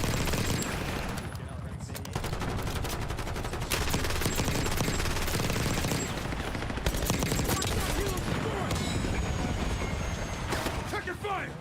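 Dense, nonstop gunfire from a Call of Duty: Black Ops 6 match, loud rapid automatic bursts layered with explosions and effects, with voices talking over the shooting throughout.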